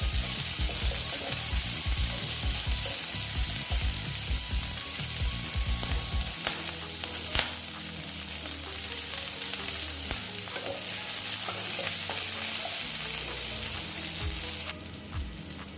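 Thickly sliced onions fry in a pan for a bitter gourd pickle curry, giving a loud continuous sizzle with bubbling crackle and scraping stirs throughout.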